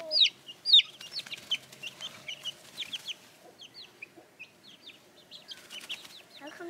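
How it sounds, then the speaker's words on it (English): Baby chicks on a farm, a rapid run of high, sharp peeping chirps, close and fairly clear, repeating in quick irregular bursts over quiet background. "My new baby chicks are moving out."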